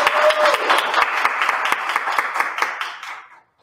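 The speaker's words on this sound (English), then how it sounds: "I'd like to take this moment to applaud Ms. Joan Lamb and Ms. Teresa Moore for their 10 years of service." Audience applause for two teachers honored for ten years of service at an eighth grade graduation at Holy Family school, a dense crowd clapping with a few sharp individual claps, fading out near the end.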